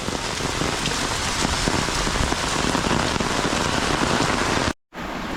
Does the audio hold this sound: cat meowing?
no